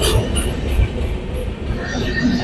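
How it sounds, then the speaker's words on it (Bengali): A train pulls away from an Indian railway station platform with a steady, loud rumble and rolling wheel noise, heard close and continuous. "আর ট্রেনটা চলে গেল।"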